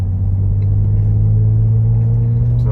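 A 2008 BMW 328i engine hums low and steady from inside the car as it upshifts at about 2,500 RPM, a loud, smooth rumble with a faint shift in pitch partway through.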